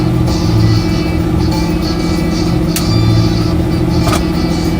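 A truck engine with a jake brake running through a straight pipe with no muffler, heard as a loud, steady rumbling drone with a couple of sharp clicks, recorded from inside a vehicle.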